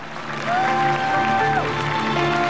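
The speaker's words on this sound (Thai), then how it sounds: "ผมขอเสียงปรบมือต้อนรับ คุณพ่อคุณแม่ของน้องเก่งครับ" A studio audience claps to welcome a contestant's parents during an elimination results round of a Thai talent show. Steady, moderately loud applause runs throughout, mixed with sustained musical tones.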